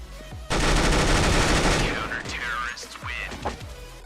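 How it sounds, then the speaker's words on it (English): An M249 machine gun in CS:GO fires a sustained, loud automatic burst lasting over a second, followed by fainter in-game shots, impacts and movement sounds. "the M249 spray actually becomes easier to control the longer you shoot."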